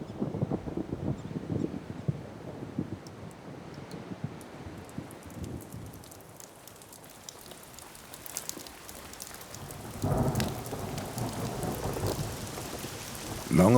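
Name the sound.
thunderstorm with rain on the prairie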